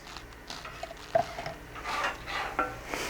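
Minced garlic goes into melted butter in a pan for mac and cheese, bringing soft scraping and stirring with a couple of utensil clinks and a faint sizzle, close and fairly quiet, with no talking.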